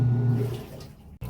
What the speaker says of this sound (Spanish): Aquí vemos que ya nos está expulsando el agua.